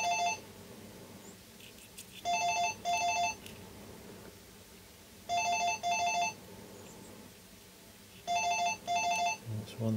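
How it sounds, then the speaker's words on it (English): A telephone rings in a workshop, sounding in bursts of two close trills that repeat three times with short quiet gaps between them. "Hopefully that phone will stop any minute."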